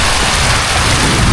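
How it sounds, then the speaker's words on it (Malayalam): Heavy downpour during flooding in Malta, a loud, continuous roar of rain pounding surfaces up close, steady and unbroken with no talking. "ഫുള്ള് മഴ."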